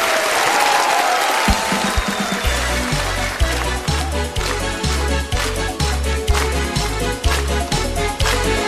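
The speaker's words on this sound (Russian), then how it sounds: "Встречайте ее бурными аплодисментами." A studio audience breaks into dense, steady applause for a singer on a televised Russian folk-song concert show, as the band's bouncy intro to a song kicks in underneath and continues through the clapping.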